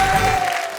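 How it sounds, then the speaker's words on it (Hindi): Applause at a Hindi poetry recitation show, a brief burst of crowd clapping that is steady and fairly loud throughout and carries no talk. "जोरदार तालियां"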